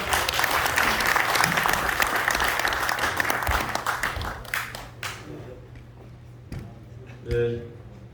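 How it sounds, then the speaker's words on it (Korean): Warm audience applause at a Dongguk University alumni forum welcomes a speaker, loud and sustained for about five seconds, then thinning into scattered claps and a few closing pops. "여러분 큰 박수로 맞이해주시기 바랍니다."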